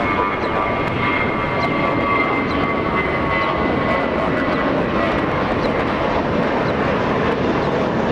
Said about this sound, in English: So right now we have one on the takeoff roll. It's a Volaris 913 flying to Guadalajara.